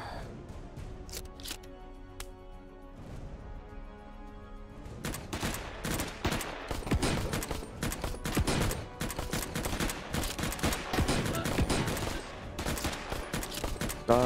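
Dense bursts of gunfire from the PSVR2 VR game Cactus Cowboy: Plants at War, sparse shots at first, then a loud, sustained fusillade of rapid cracks from about five seconds on, with a little speech mixed in.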